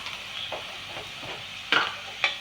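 Chili added to sautéed garlic in a pan while making a nutmeg pickle gives a soft steady sizzle with stirring scrapes and a couple of sharper clinks near the end, close and moderately loud.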